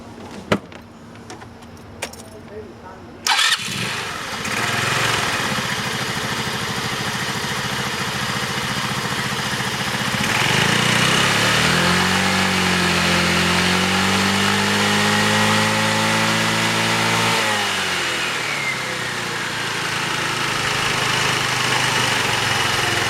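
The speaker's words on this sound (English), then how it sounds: "I'll fire it up so you can hear the engine." A Taotao ATM150-A Evo scooter engine starts up after a few clicks and key jangles, then settles into a steady, close, moderately loud idle with a brief rise in pitch partway through.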